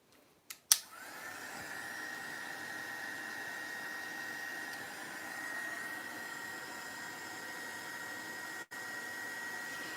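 A dryer runs steadily on a painted craft piece, starting with a click and a brief knock, then holding an even airy whir for nearly ten seconds with one momentary dropout late on.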